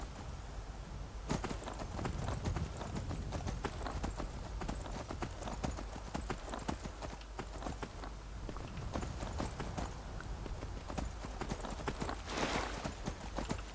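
A horse's hooves clip-clop steadily at a fast pace in the game Skyrim while the horse is ridden, with dense, rhythmic impacts continuing throughout under a constant ambient wash.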